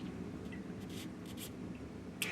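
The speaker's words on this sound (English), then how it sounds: "now I am drawing a line on the cartridge body and on the nut itself" A marker squeaks briefly and faintly as it draws a line across a faucet cartridge body and its nut, a few short strokes against quiet background hiss.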